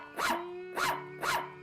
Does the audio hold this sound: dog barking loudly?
yes